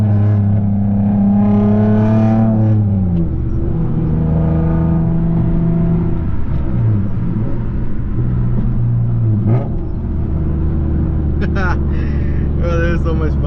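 A Nissan Maxima with a 6-speed manual swap accelerates hard through the gears, its engine droning loudly and dipping in pitch at each shift while people talk over it from inside the car.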